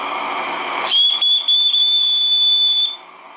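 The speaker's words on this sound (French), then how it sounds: "sinon le sifflet va faire blur blur blur." A live steam model boiler from an Anton T200 steam set blows its whistle: one loud, steady, high-pitched tone lasting about two seconds, close up, cutting in over a background hiss of steam and stopping abruptly.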